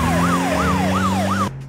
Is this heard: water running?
no